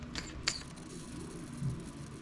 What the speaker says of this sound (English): use my little hand vacuum pump here to pull vacuum on this hydraulic system and get all the bubbles out